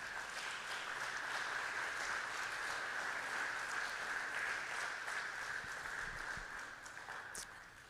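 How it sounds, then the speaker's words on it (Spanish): A church congregation claps in praise during a service, a fairly soft, even wash of many hands that holds steady and then thins slightly near the end. "Dele un fuerte aplauso al Señor Jesucristo."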